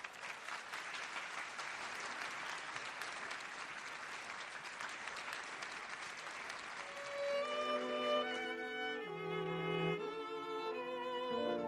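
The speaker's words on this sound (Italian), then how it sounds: "Vorrei che lo accogliessimo con un grande applauso" An audience at a live 2009 concert applauds a singer with dense, steady clapping. After about seven seconds, sustained musical tones rise over the fading applause.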